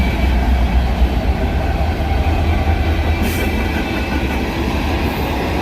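A freight train with two distributed power locomotives rolls past close by in a thunderstorm, a loud continuous rumble with rail clatter and faint wheel squeal, no voices.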